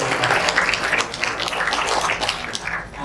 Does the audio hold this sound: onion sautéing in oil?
no